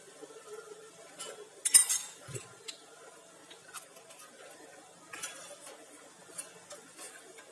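A spoon scrapes and clinks softly against a pot of custard pudding sauce with rum butter in short, irregular strokes, quiet and close.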